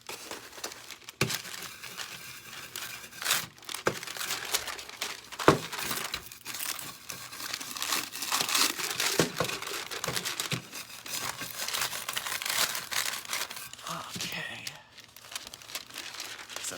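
Rainbow-colored foil crinkles and crackles continuously while being handled and slowly peeled off a cup, with sharp crisp rustles and brief tearing bursts at close range.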